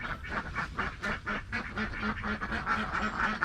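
Laying ducks quacking in a pen, a rapid run of loud, close nasal quacks that overlap one another continuously with no speech.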